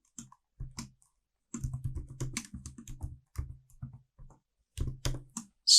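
Bursts of close typing on a computer keyboard, quick clusters of clicking keystrokes separated by short pauses, clear and alone.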